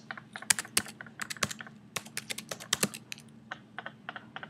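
A password being typed on a computer keyboard, a rapid, uneven run of close, crisp key presses without any talking.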